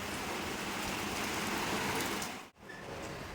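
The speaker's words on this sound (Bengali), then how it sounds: "বৃষ্টি পড়ছে" Rain falls steadily as a soft, even hiss that stays at the same level throughout. About two thirds of the way in there is a brief dip and a dropout, and no voices are heard.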